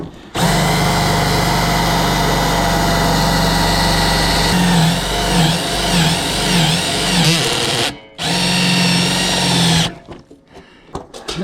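A power drill fitted with a unibit step drill bit bores a hole, whining loudly and steadily with a pitch that wavers under load, stops briefly, restarts, then ends in scattered clicks and rattles.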